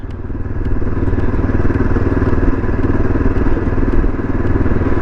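A Yezdi Adventure motorcycle runs steadily in fourth gear at about 30 km/h, its engine a loud, close, continuous rumble with faint ticking clatter over the top and no talk.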